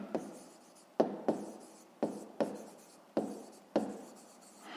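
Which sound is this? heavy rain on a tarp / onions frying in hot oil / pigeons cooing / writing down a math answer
writing down a math answer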